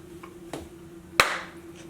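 A single sharp hand clap, loud and close, stands out against a quiet room with faint background hum and a softer tap just before it.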